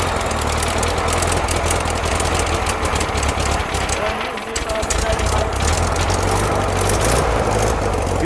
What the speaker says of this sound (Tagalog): Ito na yung makina niyan, mga kapatid. Pagaganahin namin.